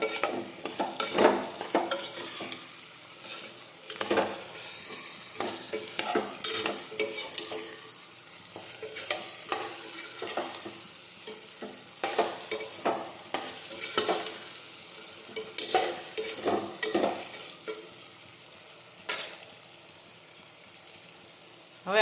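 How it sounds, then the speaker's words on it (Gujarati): Eggplant, potato and tomato curry is stirred while it fries in a pan, with repeated scraping strokes of the spoon over a soft, steady sizzle, fairly close and with no one talking. "ફરી પાછું મિક્સ કરી દઈશું"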